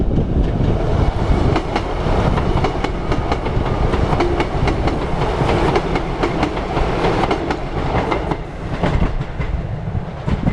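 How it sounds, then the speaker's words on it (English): A train on the St Ives branch line in Cornwall runs along with steady rumbling and rhythmic clickety-clack of wheels on track, loud and continuous, no voices. "At last, there's a train coming. It's the St Ives branch line"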